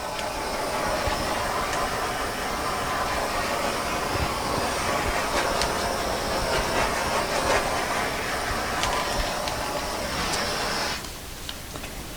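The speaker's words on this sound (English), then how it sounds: "So I'm going to use my heat torch." A heat torch blows a steady, close hiss over a wet acrylic pour painting for about eleven seconds, then cuts off to quiet room tone.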